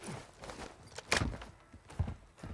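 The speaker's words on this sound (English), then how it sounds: "You hear footsteps?" Footsteps in the video game Warzone 2, a few soft uneven thuds spread across a couple of seconds with one louder step in the middle, heard faintly with no talk over them.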